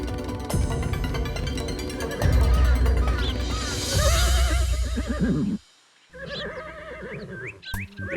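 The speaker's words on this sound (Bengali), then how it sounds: "আপনি ঘোড়ার ডাককে মেঘের গর্জন বলছেন?" A horse whinnies repeatedly near a stable, the calls rising and falling in loud bursts over background music and stage noise, with a short silence before more neighing and a final sharp cry.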